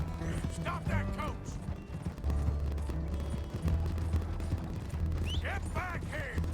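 A horse-drawn coach gallops in Red Dead Redemption 2 with rapid hoofbeats and rattling wheels, mixed with sharp cracks and bursts of shouted voices.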